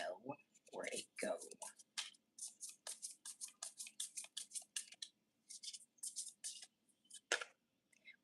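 Tarot cards are shuffled close up in a quiet room, producing soft, rhythmic riffling and slapping bursts that repeat steadily at low volume.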